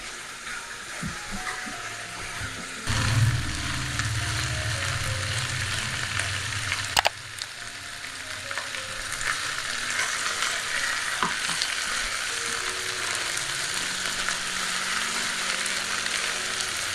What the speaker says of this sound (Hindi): चिकन को मसालों में मिक्स करेंगे और फ्राई करेंगे इसका कलर चेंज होने तक।